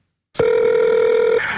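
A telephone rings loudly and close by, a single sustained electronic ring tone starting abruptly after a brief silence and holding steady throughout.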